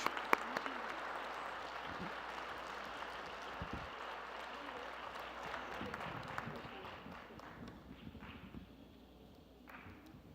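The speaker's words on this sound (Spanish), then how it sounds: "Le damos un aplauso a la doctora Mona Morshed, por favor." Applause for a guest speaker at a conference event: a fairly faint, diffuse spread of clapping from an audience, fading gradually toward the end.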